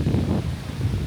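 Strong stormy wind buffets the microphone on a boat trip to the Perhentian Islands in Malaysia, a loud continuous low rumble with gusty swells and no speech.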